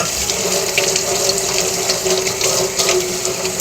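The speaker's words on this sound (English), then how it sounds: "So let me rinse this off real quick." A kitchen utensil coated in whipped cream is rinsed under a running tap, giving a steady close splash of water with small shifts as it moves in the stream.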